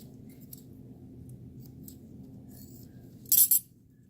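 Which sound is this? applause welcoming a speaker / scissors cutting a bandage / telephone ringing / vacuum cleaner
scissors cutting a bandage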